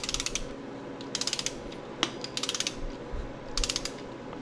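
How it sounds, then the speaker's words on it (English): A ratchet wrench clicks in quick bursts of several rapid ticks with short pauses between, torquing down bolts on a small block Chevy 350 during a rebuild; close and fairly quiet over faint background hum. "That way we're torquing everything down evenly."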